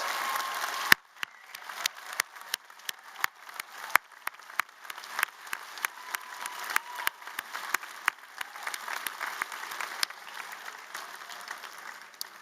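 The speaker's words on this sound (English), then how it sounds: "let us also give a round of applause to the parents" Graduation ceremony audience at a university commencement claps for graduates' parents, a sparse, scattered run of individual claps spread out over about twelve seconds with no talking.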